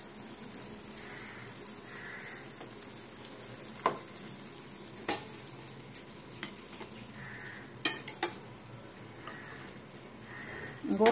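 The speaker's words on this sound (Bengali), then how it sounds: "গরম তাওয়াতে রাখছি আমি" Small fish sizzle steadily on a hot tawa for a home-style fish curry, with a soft continuous frying hiss punctuated by light taps and clinks of utensils.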